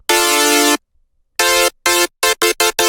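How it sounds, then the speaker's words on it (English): A bright, buzzy mono saw synth plays one long held note, pauses, then a string of shorter staccato notes, loud and alone with no voices. "Grab yourself a clean mono saw that sounds a little something like this."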